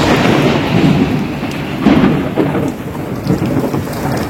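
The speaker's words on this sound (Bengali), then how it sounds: "শুরু হয় ঝোড়ো হাওয়ার সাথে বজ্র বিদ্যুৎ সহ বৃষ্টি।" A Kalbaishakhi thunderstorm in Shamsherganj pours heavy rain with rumbling thunder, loud and continuous, and stronger rolling bursts of thunder come near two seconds and again later.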